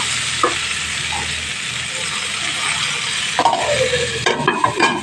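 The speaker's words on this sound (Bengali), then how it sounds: "এইভাবে ঢাকা দিয়ে 2 মিনিট করে দেখে ভেজে নেব।" Pointed gourd (parwal) with turmeric and salt frying in a covered pan gives off a steady, soft sizzle, followed by a few clattering knocks near the end.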